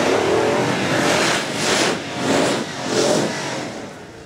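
A Nissan Patrol petrol V8 revving hard off-road in sand hills, loud and close, with three or four surging waves of engine roar in a row and no talk.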